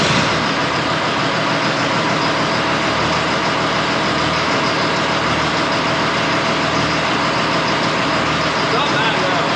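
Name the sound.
payloader engine started and idling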